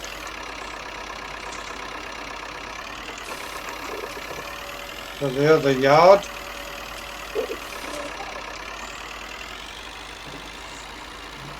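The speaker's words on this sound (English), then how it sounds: "Won't be too many years now, I suppose, before this tractor's off the farm." A farm tractor from 1961 idles steadily at a low, even throb throughout, with someone speaking briefly over it partway through.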